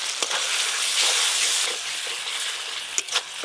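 Tomatoes, ginger-cumin-dried chili paste and spices frying in oil for khichuri, a steady close sizzle with a few faint clinks of stirring.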